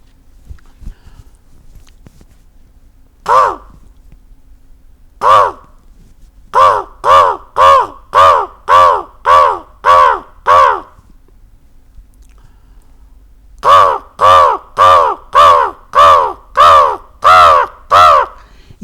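A man imitates the ordinary call of a house crow with his voice, giving a single caw, another, then two long rapid runs of loud, harsh, nasal caws, close and unaccompanied.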